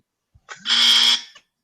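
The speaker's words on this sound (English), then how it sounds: "I heard the buzzer." A single buzzer blares in a short, harsh electronic burst lasting under a second, loud and isolated against silence.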